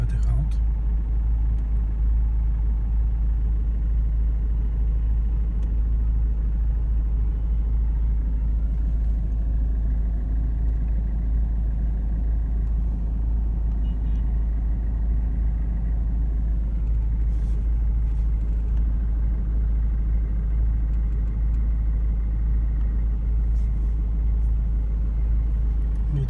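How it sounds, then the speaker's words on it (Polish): Car traffic on a busy road in Berlin rumbles steadily, with a constant low engine drone and passing vehicles heard from inside or near the flow. "Jest trochę tych aut."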